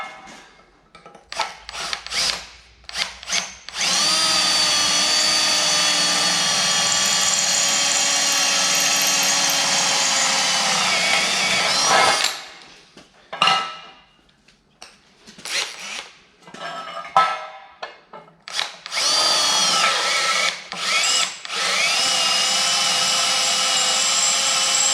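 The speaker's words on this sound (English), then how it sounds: "So I'll just rip a drill through there" A blunt power drill whines steadily through metal tubing in a long run, cuts out, then starts again in several short bursts before drilling continuously once more, close and loud.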